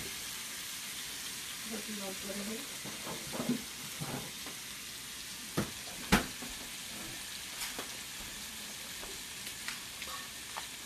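Butter sizzles in a hot pan while shrimp and grits are cooked, a continuous close hiss with occasional sharp clinks of a utensil and faint voices in the background.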